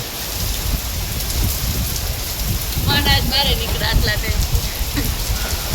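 Steady, heavy rain hisses loudly and close, with low rumbling underneath, while a voice briefly speaks in the middle.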